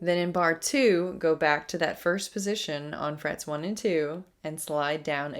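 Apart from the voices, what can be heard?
None of the usual background noises is heard.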